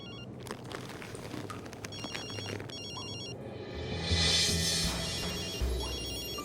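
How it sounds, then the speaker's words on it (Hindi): A phone ringtone trills in a repeating electronic pattern, moderately loud and nearby, with a swelling noise rising underneath partway through. "तुम्हारी कॉल आ रही है।"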